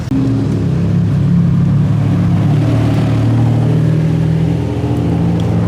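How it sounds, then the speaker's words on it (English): A Lamborghini Diablo and several Caterham sports cars pull in at a supercar show, their engines a loud, steady low rumble that holds throughout with no voices over it. "Oh, a Diablo has just turned up. And some Caterhams."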